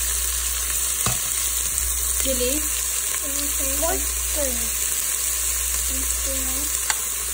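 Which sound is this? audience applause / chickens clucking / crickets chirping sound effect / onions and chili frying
onions and chili frying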